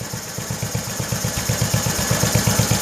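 A Kohler engine in a 1968 112 tractor runs steadily nearby, a loud, even, low chugging beat with a faint mechanical clatter, no voices.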